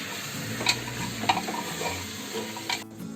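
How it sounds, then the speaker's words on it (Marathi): Mutton for an Afghani curry being stirred as it fries in a pan: a steady close sizzle under repeated scraping and clinking strokes of a spoon against the metal, with no talking. "आता मी ढवळते।"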